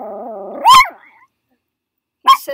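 A dog lets out a low whining growl that rises into a sharp loud bark, goes quiet, then gives another close bark with a short yip after it.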